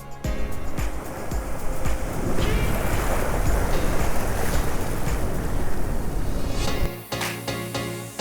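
Ocean waves wash onto a beach, a loud sustained surge of rushing water that swells and then recedes, with wind noise on the microphone and faint voices near the end.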